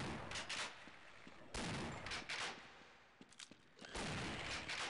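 Gunfire in the first-person shooter Half-Life, with several bursts of rapid shots separated by short pauses, moderately close, no talking over them.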